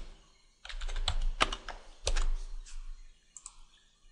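Computer keyboard typing while entering WordPress dashboard details, several close, fast bursts of clattering keystrokes separated by short pauses, with no voices.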